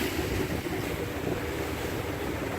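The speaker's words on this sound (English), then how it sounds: "Here the ocean is the quietest since a couple of days." Calm, flat sea at Playa del Carmen washes in a soft, continuous hiss of small waves, mixed with steady wind rush on the microphone from a boat out on the water.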